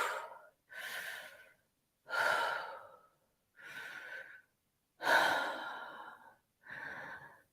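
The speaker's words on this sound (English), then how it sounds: "just going to breathe in and breathe out without pausing at all" Six loud, close breaths drawn in and pushed out at a quick pace, each a breathy rush of air with short silences between, alone without talk.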